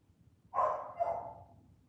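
A dog barks somewhere in the background of a quiet room, one muffled bark trailing into a drawn-out second yelp.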